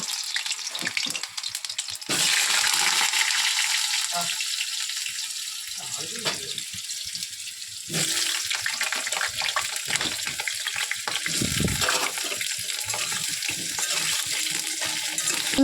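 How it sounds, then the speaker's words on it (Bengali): Potatoes frying in crackling oil in a kadai, a steady hiss and crackle running throughout with louder bursts of sizzling and some stirring clatter; no one talks. "তেল ফেট করছে কত"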